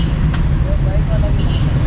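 Busy old-town street traffic in Rawalpindi with tuk-tuks, motorbikes and cars, a dense continuous rumble with faint horn-like tones close by.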